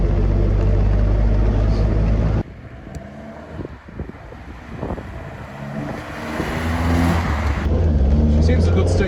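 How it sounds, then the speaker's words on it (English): A 1969 Alfa Romeo Spider Duetto boat-tail engine runs with a loud, steady rumble, dips quieter, then builds again, with wind buffeting the microphone and a voice speaking. "Seems a good state of tune, there's no bangs or pops out of it."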